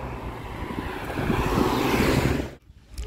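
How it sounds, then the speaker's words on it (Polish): Strong wind blows across the microphone outdoors on a warm day along the Vistula cycling trail (R10) in Poland, a steady rushing roar that swells and then drops away abruptly near the end. "Pogoda dzisiaj jest super, bo jest ciepło, ale wieje wiatr."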